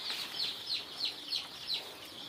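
Local chicken chicks peep in a brooder in a quick, steady series of high, thin chirps, about seven of them, fairly faint and with no other sounds around them.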